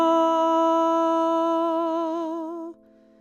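A minor chord played for ear training, a single sustained chord ringing clearly on its own, slowly fading with a slight wavering before it is cut off short near the end.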